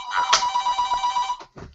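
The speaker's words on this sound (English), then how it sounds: "Phone's ringing." A telephone rings loudly up close with a bright, buzzing bell tone that holds for just over a second, then cuts off and gives a brief second start.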